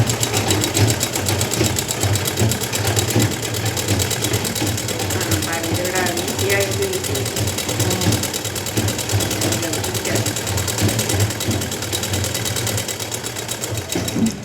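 A power sewing machine stitching a blouse runs in a steady, loud mechanical whir throughout, with someone talking over it much of the time.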